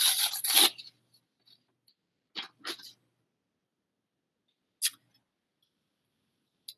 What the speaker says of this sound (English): So what I have is just some thin sandpaper. And I'm going to tear a little piece off.